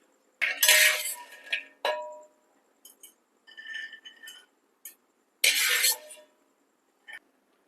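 A metal spoon scrapes and clinks against a pan while fried almonds are scooped out, in a few short bursts of clattering with quiet gaps between them.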